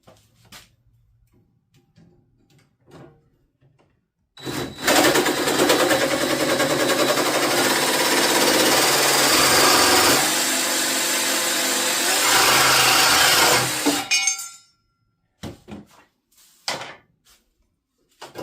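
A power tool cuts through metal during a rooftop solar install on a Toyota minivan, giving a loud continuous grinding whine for about ten seconds, with quiet clicks and handling noise before and after.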